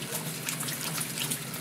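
A dog drinks from a running faucet, heard as a steady, close stream of tap water splashing into a sink without pause and with no talking.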